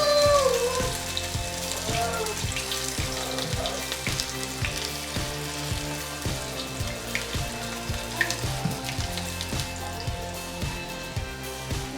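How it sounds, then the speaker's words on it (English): Potato pancakes fry in a pan, a steady close crackle and sizzle with popping spatters that runs throughout at moderate volume, with no speech. "now we are going to fry our potato pancakes"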